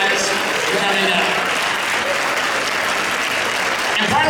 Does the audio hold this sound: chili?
no